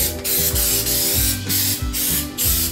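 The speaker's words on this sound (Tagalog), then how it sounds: "So, ito pang spray to guys." Cooking spray hisses from an aerosol can onto a baking pan in a home kitchen, several short loud bursts of spraying repeated in quick succession, close to the microphone over a constant background hum.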